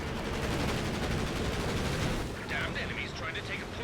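Dense, continuous battle gunfire and booming shots from anti-tank guns in a Company of Heroes 2 4v4 match on Lanzerath Ambush, a steady loud barrage with crackling higher bursts near the end.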